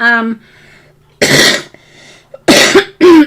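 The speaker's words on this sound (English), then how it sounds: "Excuse the cough there." A person coughs sharply a few times, loud and close, with brief vocal sounds and pauses between the bursts.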